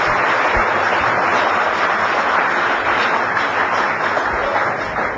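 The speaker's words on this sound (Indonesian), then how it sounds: "kita beri tepuk tangan lagi" A seminar audience on success and achievement applauds, producing a continuous, fairly loud wash of many hands clapping that stays steady throughout and carries no speech.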